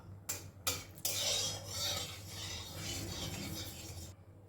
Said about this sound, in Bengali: তেলের মধ্যে দিয়ে দিচ্ছি আমি দুটো শুকনো লঙ্কা লঙ্কা দুটো ভালো করে একটু নাড়াচাড়া করে নেব